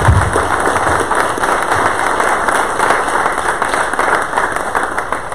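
A forum audience applauds a panel speaker, sustained dense clapping filling the room at a loud, even level with no talking over it.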